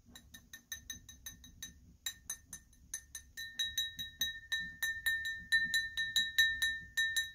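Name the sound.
small crystal or glass drinking glasses clinking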